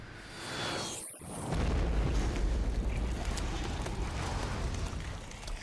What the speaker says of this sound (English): Pretty small explosion for a nuke too.